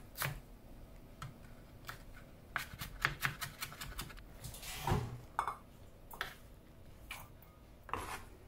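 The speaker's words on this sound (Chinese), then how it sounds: "把芹菜梗从中间切一刀，和芹菜叶子一起切碎" Knife chopping washed celery stalks and leaves on a cutting board, with irregular sharp taps in short bursts, some quick runs of cuts and a few louder strikes, close and clear.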